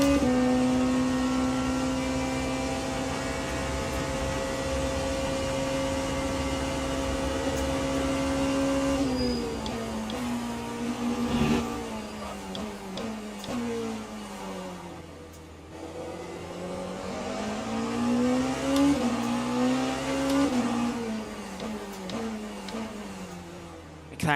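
McLaren and Peugeot race car engines in the Le Mans Ultimate racing game, a high sustained whine holding steady, then shifting and dropping before climbing again as the cars run flat out along a straight.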